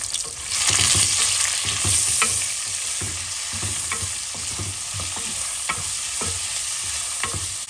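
A spoon stirs curry with small onions frying in a pan, scraping and tapping against the metal in a loose, irregular rhythm over a soft, steady sizzle, close and moderately quiet.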